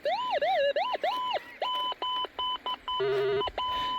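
Gold Monster 1000 metal detector sounding over a large buried target near the River Torrens, giving a series of warbling electronic tones and short repeated beeps that rise to a steady buzzing signal, with no talk.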